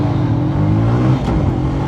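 Motorcycle engines, a Bajaj CT110X and a TVS Victor, roar steadily at the start of a drag race, a loud, close, continuous rising drone with no pauses.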